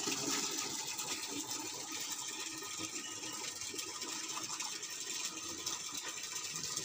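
Water from a pump-fed tap runs steadily into a container, a continuous broadband splashing rush that stays loud and even throughout with no talking.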